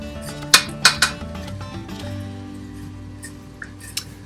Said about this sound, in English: just mix it around and it will all eventually dissolve